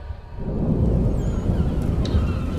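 A thunderstorm at sea in the video game Assassin's Creed 3 rumbles in as a deep, swelling roar of wind and thunder that builds after a brief quiet start and holds steady.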